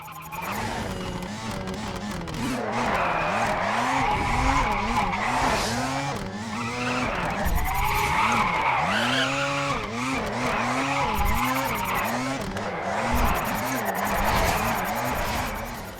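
In the racing game Race Driver GRID, a Mazda RX-7's engine revs pulse up and down over continuous tire squeal as it drifts downhill through Mount Haruna corners, loud and sustained with rhythmic throttle taps.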